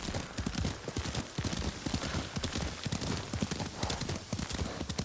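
A horse's hooves clip-clop at a steady gallop rhythm while being ridden in Ghost of Tsushima, close and loud throughout, with a faint neigh.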